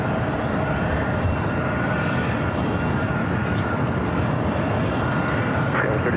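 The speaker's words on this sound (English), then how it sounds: "Next arrival is at Delta 757-200 coming in from Atlanta, flight 500." A Delta Boeing 757-200 arriving from Atlanta at LAX produces a broad, steady engine roar that stays constant and fairly loud throughout, with no distinct rise or fade.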